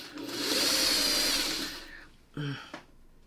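A sewing machine stitches quilt pieces together in one steady whirring run of about a second and a half, then stops and gives two short bursts of handling noise.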